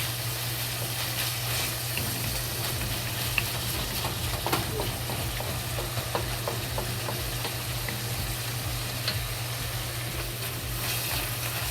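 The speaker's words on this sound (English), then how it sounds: "You slowly stir fry and let the fat in the meat come out to the oil." Ground beef stir-frying slowly in oil in a wok gives a steady, close sizzle with faint scattered crackles and spatters, continuing without pause and with no one talking.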